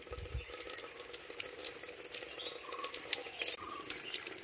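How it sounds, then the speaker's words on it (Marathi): Spring water trickles steadily into a small stone-lined catch basin at a village deity shrine, a faint continuous running flow with light splashes and no voices. "कायम पाणी चालू असतं."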